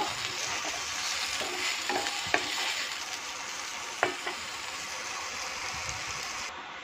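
Vegetables lightly frying with turmeric in hot oil, a dense continuous sizzle heard up close, broken by a few sharp utensil taps, with no voices.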